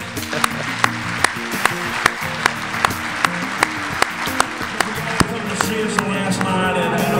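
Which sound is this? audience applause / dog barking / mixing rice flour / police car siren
audience applause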